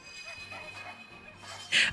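Small puppies in a video game whimper and let out a yip near the end, faint at first and then a sharper, louder burst.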